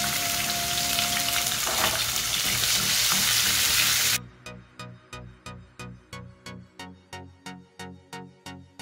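Ginger garlic paste and chana dal fry in a pan with a dense, loud sizzle for about four seconds, which then cuts off into a run of evenly spaced sharp clicks.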